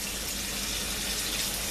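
Tap water runs steadily into a sink while fresh parsley and cilantro are washed, a continuous close hiss with no breaks and no voices.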